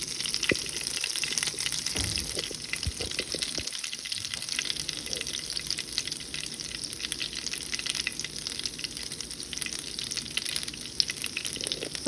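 Ice cooking in a hot pan gives off a steady, dense sizzle with crackling bubbles. The sound is continuous and close throughout, and no one speaks.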